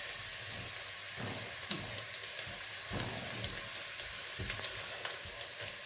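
Garlic-ginger paste and mutton fry in a pot, giving a steady soft sizzle with faint crackles and occasional stirring scrapes throughout, fairly quiet and without talk.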